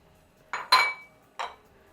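Walnuts tumbling into a hot pan for vegan chili with green beans, giving three quick clattering bursts of hard pieces hitting metal, close and fairly loud, with no talk.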